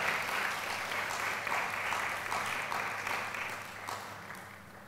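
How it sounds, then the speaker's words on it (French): A conference audience at a social entrepreneurship event applauds a panelist joining the panel, a steady, moderately distant wash of clapping that holds evenly and fades slightly toward the end. "Je vais vous demander d'applaudir très fort pour Merdia qui est rejoint dans ce panel."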